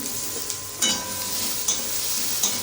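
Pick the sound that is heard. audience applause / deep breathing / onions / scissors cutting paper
onions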